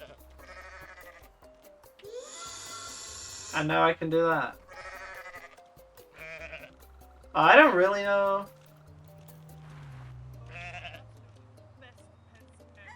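Several goats bleat in the video game ME Simulator, with drawn-out wavering cries spread across the scene and the loudest in bursts near the middle, while a person talks between them.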